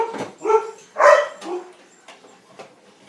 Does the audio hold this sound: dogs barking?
yes